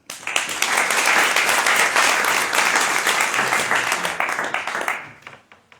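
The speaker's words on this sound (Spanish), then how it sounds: "Un aplauso para él." An audience at a book presentation at the Bogotá book fair breaks into warm, steady applause that holds for several seconds before tapering off near the end.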